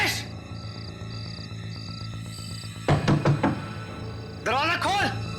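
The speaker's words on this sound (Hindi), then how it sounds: "तुम यहाँ खड़े रहकर लगातार दरवाजा नॉक करते रहो" A door is knocked on several times in a quick cluster, heavy and close, over a steady tonal background, followed by someone speaking.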